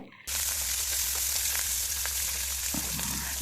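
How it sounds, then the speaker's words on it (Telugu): Urad dal and curry leaves frying in oil on low heat for tomato pickle, a steady close sizzle that starts abruptly and runs continuously with small crackles. "వేగాలండి ఇవన్నీ సిమ్లో వేగించుకొని మంచి స్మెల్ వస్తుంది"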